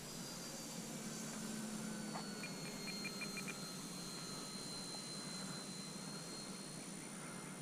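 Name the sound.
Durafly Ugly Stick V2 RC plane flying at three-quarter throttle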